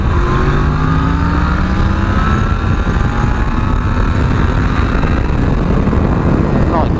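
A 2017 Yamaha MT-10 SP naked motorcycle accelerates hard on the road, its engine note climbing in rising harmonic sweeps over steady loud wind and road roar, with no break in the noise.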